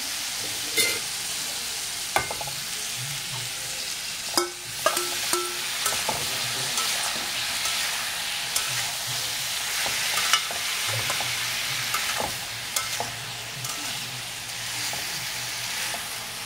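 Prawns sizzle steadily in a pan of pumpkin curry, with intermittent clinks and scrapes of a spoon stirring through the hot oil, close and continuous without any voices.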